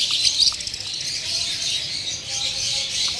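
Many caged lovebirds and Java sparrows chirp and tweet together in a breeding setup, a dense continuous chorus of high twittering calls, moderately loud and close, with no talking.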